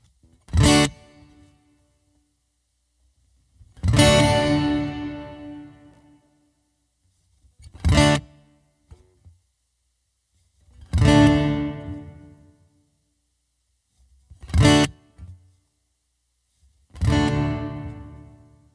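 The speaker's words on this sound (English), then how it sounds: "All right, now I need some reverb on there." Six guitar strums ring out one at a time through a Yamaha AG Stomp's hall reverb, each note followed by a lingering, spacious reverberant tail that trails off into silence between hits.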